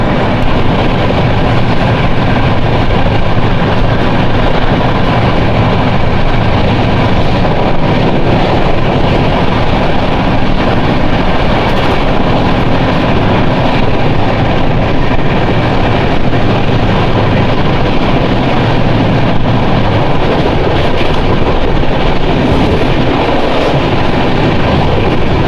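The Garib Rath express from Yesvantpur to Secunderabad runs at speed, a loud, unbroken rumble and rattle of wheels and carriages that never lets up.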